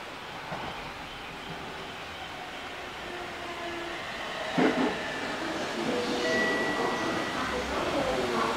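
JR train running on the line toward Tsuchiura, heard from inside or nearby: a low steady rumble with faint tonal whines and a brief clank midway, fairly quiet and continuous.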